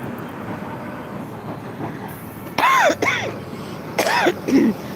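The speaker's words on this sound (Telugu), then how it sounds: "దగ్గు వచ్చేస్తుంది" A few harsh coughs burst out close by, two to three in quick succession, over a quiet rumbling background.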